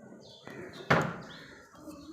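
A room door swings shut with a single firm thud partway through, close by, against a quiet indoor background with faint chirps.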